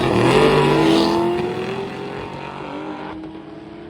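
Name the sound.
race car at a drag race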